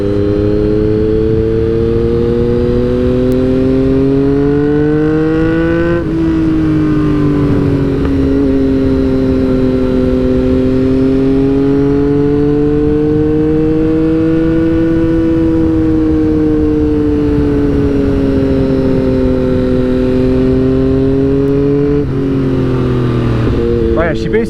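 Motorcycle engine on a new road bike, pulling steadily through the gears on a gravel-strewn road, its rising and falling harmonic drone loud and continuous with two brief shifts; strong wind rush throughout.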